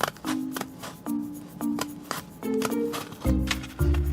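Scissors snip through red vinyl being cut for a James Bond style number plate, a series of crisp close cuts and rustles coming in quick irregular bursts, with no voices.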